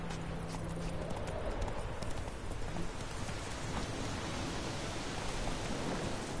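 Horse hooves in The Witcher clip-clop in a steady rhythm, mixed with dense rain-like noise that partly masks them.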